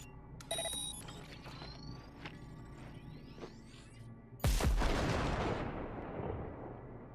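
A grenade detonates in a video game, a sudden loud booming blast with a rumbling tail that fades over a couple of seconds, preceded by quieter clicks and whooshing game effects, with no talk.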